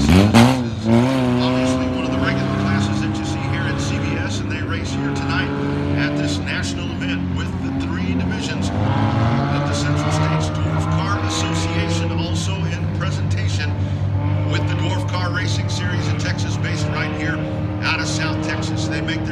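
Sport compact race cars lapping a dirt speedway at night, a pack of engines droning and rising in pitch as they pass, loud and continuous over the full span, with no voices.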